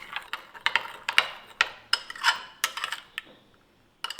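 Whisk or spoon clinking and scraping against a bowl while fresh cream and powdered sugar are mixed, in quick irregular taps that fade to quiet near the end.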